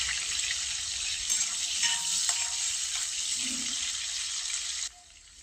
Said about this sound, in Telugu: సన్నగా తరిగిన ఎరగడ్డ అయితే వేసి దోరగా వేయించుకోవాలి